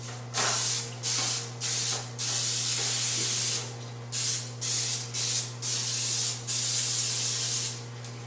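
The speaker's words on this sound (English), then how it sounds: "we're going to spray our pans" Several short bursts of cooking spray hissing onto baking pans in quick succession, close up, with a low steady hum underneath.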